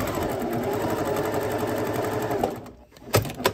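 Sewing machine stitching across fabric for small Easter bunny treat bags, a fast steady mechanical whir close by that stops near the end and gives way to a couple of sharp clicks and handling sounds.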